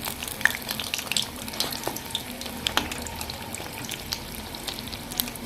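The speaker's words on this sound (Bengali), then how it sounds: "এভাবে উল্টে পাল্টে কিন্তু লো আওয়াজে ভেজে নিতে হবে" Bok flower (sesbania) fritters sizzle and crackle in hot oil over low heat, a lively, close frying hiss dotted with frequent sharp pops and spatters throughout, with no talking.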